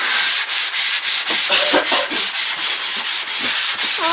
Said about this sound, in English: We are rubbing down the dry lining muck